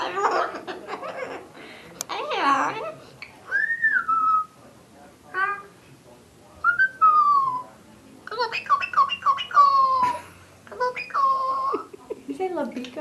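A pet bird whistles in rising and falling tones, several clear bursts spread across the stretch, mixed with people talking and chuckling nearby.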